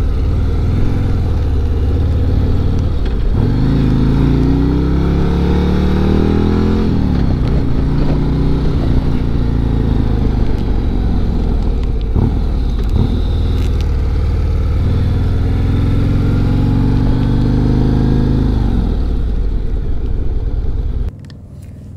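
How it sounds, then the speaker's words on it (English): A deep heavyweight cruiser-tourer motorcycle exhaust rumbles steadily at speed, its pitch climbing as the engine revs up, close and loud with some wind noise. "you should be able to hear that exhaust."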